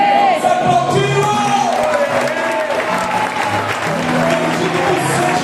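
A church congregation applauds at a New Year's Eve worship service, a steady wash of clapping that runs the whole stretch under a sustained musical tone, with voices mixed in.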